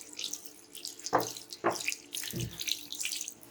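Water runs from a tap at a market stall in Sahiwal where dough is being tested, a close splashing stream into a basin with several louder gushes and uneven surges, no one speaking over it.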